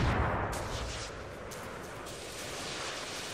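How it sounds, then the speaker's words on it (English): A grenade blast in a video game sounds as a loud, broad boom at the start that decays into a long rumbling tail under faint background noise. "he put a nade right on top of me"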